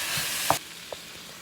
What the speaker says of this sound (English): Garlic and ginger. And I keep stirring.